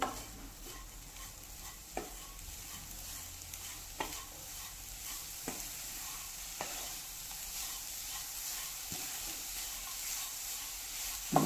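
Jaggery is stirred into grated fresh coconut in a pan over a low gas flame, a soft steady sizzle broken by regular scraping strokes of the spoon about every two seconds, with no talking.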